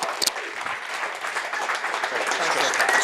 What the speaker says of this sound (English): Give them a large round of applause.